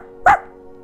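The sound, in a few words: person imitating a dog bark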